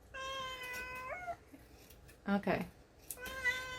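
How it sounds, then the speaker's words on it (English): A house cat meows several times indoors, with a long rising meow followed by more sustained cries and a brief rough outburst in between. A person murmurs briefly in the room. "how did a cat get in here?"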